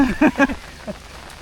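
A steady hiss of heavy rain falling in cold weather runs beneath a man's brief speech.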